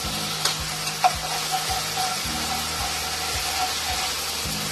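Tomato paste fries and is stirred in a pan for a Bengali parwal korma, a close, even sizzle with occasional spoon scrapes over a low, pulsing background hum.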